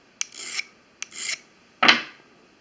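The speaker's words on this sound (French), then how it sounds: "Il suffit de quelques coups de pierre ponce simplement pour remettre la lame avec un bon niveau de coupe." Three short rasping strokes of a pumice stone drawn along a scissor blade to restore its cutting edge, each a dry gritty scrape, close and alone with brief pauses between them.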